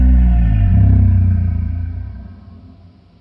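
A short sound slowed to one-eighth speed becomes a deep, loud, smeared rumble with drawn-out low tones, fading steadily over a few seconds.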